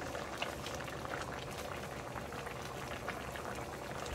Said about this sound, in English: I want to be able to put my onion in and let it saute again until it's translucent.